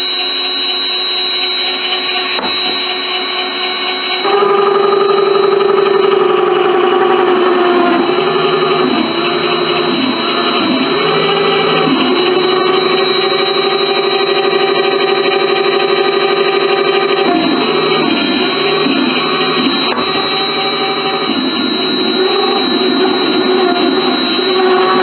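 A mini lathe cuts internal and external screw threads on a workpiece, its motor whining steadily and loudly with repeated rising and falling pitch shifts as the spindle speed and cutting load change, with no voices.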